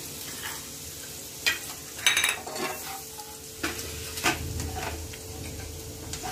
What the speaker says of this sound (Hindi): अच्छे से हम इनको साथ में भून लेते हैं